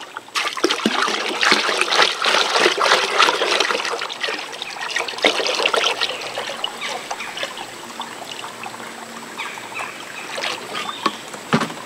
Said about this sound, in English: You want to pour that plot starter in there.